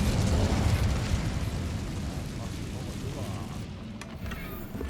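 An Incendio fire spell in Hogwarts Legacy unleashes a loud, dense roaring burst of flame that stays heavy for a few seconds and then slowly thins out.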